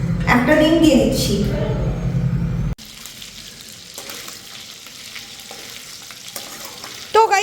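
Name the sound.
chicken with egg frying in pan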